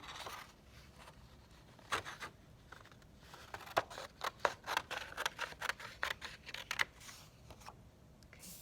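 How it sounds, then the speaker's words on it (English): Close, crisp snips of scissors cutting a cat shape out of paper, a quick series of sharp clicks and rustles with short pauses in between. "I can turn my paper as I cut to make it easier."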